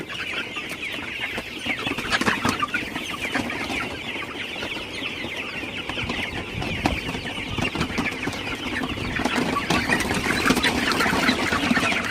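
Sonali super hybrid chickens cluck and squawk together on a farm, a dense, loud, continuous flock chatter with overlapping calls close by.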